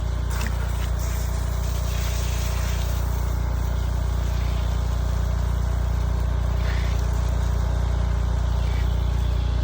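A water well pump runs steadily during a pump test, drawing about 16 to 17 gallons a minute. It makes a continuous low, close mechanical drone with a broad hiss over it. No one speaks.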